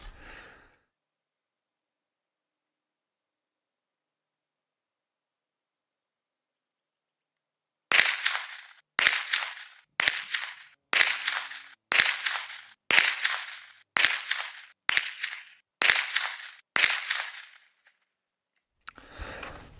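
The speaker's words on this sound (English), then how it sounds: "I'm just going to put 10 rounds through this and just see, you know, what sort of group I can get." An SMLE No.2 Mark IV .22lr trainer rifle fires ten evenly spaced sharp shots at a range, each crack followed by a short decay, with a long quiet stretch before the string and no talk.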